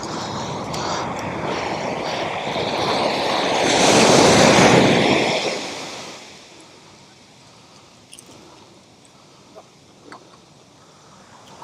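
Surf rolling onto the beach at Cabo San Lucas: a broad wash of breaking wave noise swells up and peaks, then recedes to a quieter hiss, with some wind buffeting the microphone.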